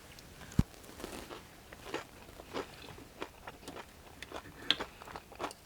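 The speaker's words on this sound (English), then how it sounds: "So, potatoes look crunchy." Someone bites and chews crunchy potatoes served with steak at an outdoor meal, close crisp crunches and chewing sounds coming in irregular bursts, fairly quiet.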